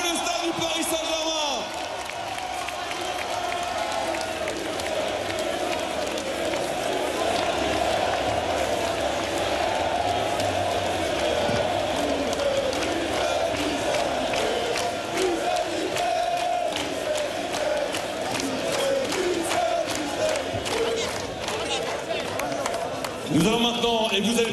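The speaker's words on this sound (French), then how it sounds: "Applaudissements pour Luis Campos et Luis Enrique et tout le staff du Paris Saint-Germain" Huge crowd at the foot of the Eiffel Tower cheering and applauding PSG sporting director Luis Campos, coach Luis Enrique and staff as European champions, a dense continuous roar of shouts and whoops throughout.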